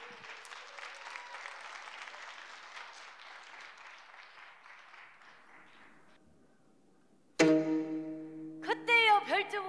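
Audience applause at a Korean traditional music concert, a full round of clapping that thins and fades out over several seconds. Then a traditional instrument begins plucking and sliding notes.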